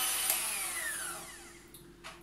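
A handheld electric mixer beats a lemon mixture for a keto no-bake cheesecake, giving a steady whirring motor drone that slowly fades over a couple of seconds, close and alone.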